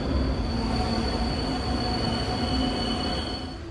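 A Korail Line 4 subway train runs at a station, its steady loud rumble and faint wheel squeal continuing without pause, with no voices over it.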